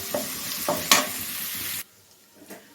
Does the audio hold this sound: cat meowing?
no